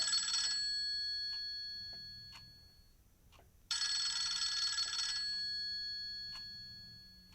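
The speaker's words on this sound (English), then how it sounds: "the phone rang" A telephone rings twice in a quiet room, two clear bursts of bright electronic-bell trilling separated by a pause with a low hum underneath.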